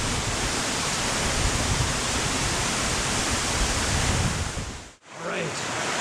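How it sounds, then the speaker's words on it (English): A hidden waterfall near Sombrio Beach on Vancouver Island roars as a dense, steady rush of falling water close by, briefly cut off near the end. "There it is, the hidden falls."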